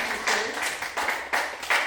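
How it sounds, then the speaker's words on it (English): Audience applause at a BraveMaker LA film event, a steady wash of clapping with a few swelling bursts, fairly close and filling the whole moment without talk. "yes, applaud, I love"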